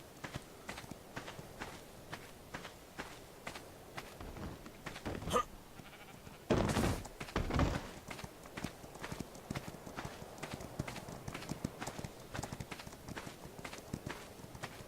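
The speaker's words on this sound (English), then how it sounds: "Here's my glitching sheep." A sheep in the video game Ark, faint bleats mixed with steady clip-clop footsteps and a couple of louder bursts midway, quiet background game audio with no talking.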